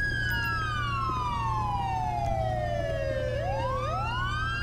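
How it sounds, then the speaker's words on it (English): A police car siren in the video game GTA V sweeps slowly downward in pitch, then rises again in repeated swoops, loud and steady over a low engine hum. "Let's get these sirens shut off."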